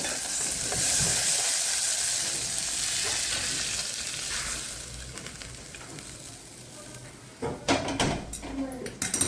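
Fresh pigeon pea pods dry-roasting in a pan, a soft continuous sizzle and hiss that fades down, followed by louder clattering scrapes and knocks of the pan near the end.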